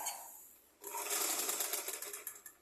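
A sewing machine stitches umbrella fabric. It starts after a quiet moment with a steady, fairly close mechanical whir and ticking, then breaks into short rhythmic bursts toward the end, with no talk.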